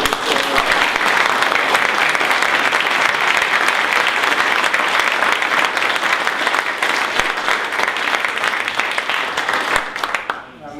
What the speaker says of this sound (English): But let's have a terrific round of applause for David.